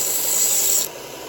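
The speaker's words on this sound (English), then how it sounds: "just barely even touching the belt, just to do a little work on that burr" A knife edge runs lightly across a 1x30 belt sharpener to refine the burr, a brief close rasping hiss that stops abruptly.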